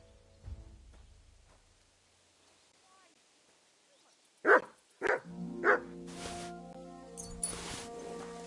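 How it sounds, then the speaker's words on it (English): A dog in the medieval role-playing game Kingdom Come Deliverance 2 lets out three loud, sharp barks in quick succession, then a higher yelp, with quiet ambience before and faint game sound after. "I'm sorry, silly doggy."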